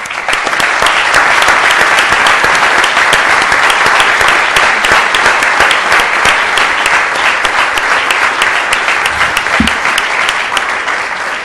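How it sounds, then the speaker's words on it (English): Loud, sustained applause from a city council meeting audience, dense steady clapping filling the room for the whole stretch without a break. "Please help me thanking them by giving them a round of applause."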